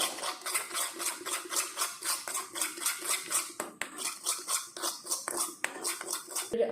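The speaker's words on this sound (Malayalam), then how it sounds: "നല്ലവണ്ണം തന്നെ നമ്മളൊന്ന് മിക്സ് ആക്കിയെടുക്കുക" Coconut hair-dye paste being stirred in a bowl, steady rhythmic scraping strokes, close and clear, repeating about twice a second with no talk over them.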